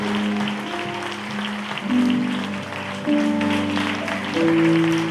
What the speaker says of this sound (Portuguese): Você pode dar um lindo aplauso a Jesus.